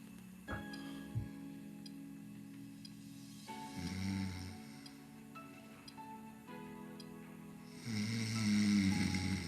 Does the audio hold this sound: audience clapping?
no